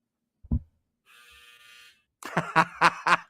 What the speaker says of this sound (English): That was my dryer, ladies and gentlemen.